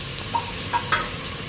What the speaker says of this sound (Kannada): ನಾನು ಚೆನ್ನಾಗಿ ಮಿಕ್ಸ್ ಮಾಡ್ತೀನಿ